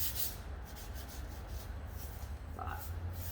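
Steady hand sanding on the body panel of an R31 wagon drift car, a continuous dry rubbing hiss that holds close and even throughout with no breaks.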